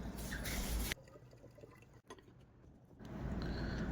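Homemade lemon water with pink salt and mint is poured, a trickling splash of liquid that pauses briefly and then resumes, fairly close and clear.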